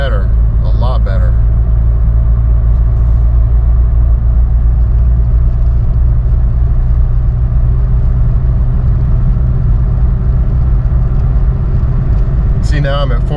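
Saturn car engine cruising at 47 mph and about 1900 RPM, a loud, constant low rumble and drone from inside the car, with brief interior clicks near the start and end.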